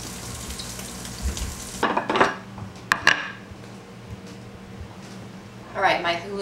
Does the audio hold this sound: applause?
no